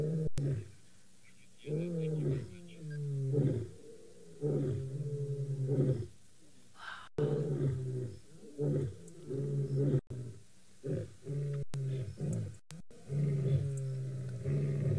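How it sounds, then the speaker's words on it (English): Lions calling in the wild at a safari sighting, a series of deep, moaning roars rising and falling in repeated bouts, close and loud, with a few quiet voices between them. "Ooh, they're roaring."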